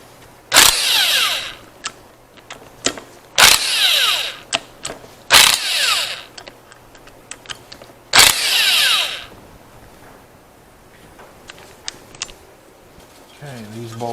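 A power tool, likely an impact driver, removes tight turbo mounting bolts on a truck during a turbo rebuild, in several loud bursts of a second or so between quieter handling noises and brief speech.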